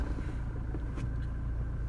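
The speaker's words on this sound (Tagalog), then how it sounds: "start up your car" A manual transmission car's engine runs at a steady, close idle just after the ignition is started, with a low, even rumble and regular pulsing throughout.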